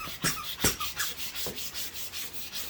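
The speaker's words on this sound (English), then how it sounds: "So let me go ahead and take this and I'm going to sand this all off." Sandpaper rubs over a garden tool handle in quick back-and-forth strokes, close and fairly loud, about a dozen rasping passes in a steady rhythm with no talking.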